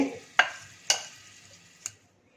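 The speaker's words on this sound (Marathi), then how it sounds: "आवळ्याच्या फोडीमध्ये सगळा मसाला घालून असं मिक्स करून झाले" Spiced masala is stirred into pieces of Indian gooseberry for a pickle. A spoon scrapes and knocks against the bowl in three sharp, close clicks, each trailing off into a soft rustle before the sound stops.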